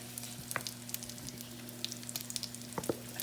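Apples with nutmeg, honey and sugar cooking in a pan, a quiet steady sizzle and bubbling with scattered small pops over a low kitchen hum, close and faint, with no talking.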